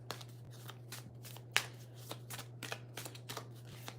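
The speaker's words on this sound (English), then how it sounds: "Right now, I'm just pre-shuffling the cards." Tarot cards are shuffled by hand in quick repeated riffles and soft flicks, close and quiet over a steady low electrical hum, with no talk.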